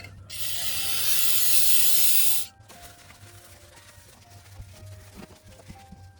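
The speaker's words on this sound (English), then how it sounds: "I'm gonna spray some brake parts cleaner to the paper towel" A loud aerosol can of brake parts cleaner hisses in one continuous burst of about two seconds onto a paper towel under a car, followed by quiet clicks and light mechanical handling nearby.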